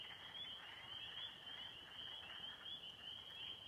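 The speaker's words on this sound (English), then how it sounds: "Hopefully you can hear the frogs." Frogs calling at dusk beside a campsite in Hartman Creek State Park, a steady dense chorus of nasal, duck-like quacking croaks running unbroken and moderately close, with no voices.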